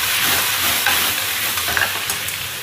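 Winter melon stir-fried in a wok over high heat gives a close, continuous sizzle with scraping stir strokes, heard alone without talk.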